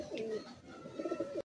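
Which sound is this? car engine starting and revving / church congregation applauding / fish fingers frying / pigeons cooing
pigeons cooing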